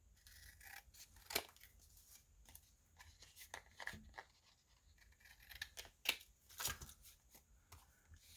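Scissors snipping the hem of a paper doll, a series of faint, crisp cuts at irregular intervals, close up with no other sound.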